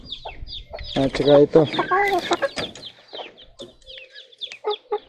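Hens and pullets, including young yellow-legged birds of a selected breeding line, cluck and call in a farm pen, with a burst of louder calling in the middle, partly under someone speaking.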